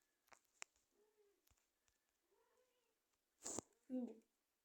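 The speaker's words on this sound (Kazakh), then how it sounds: "Арттан мысық шулап жатыр" A cat meows a few times, with a sharp, loud cry near the end, amid quiet background noises and faint voices.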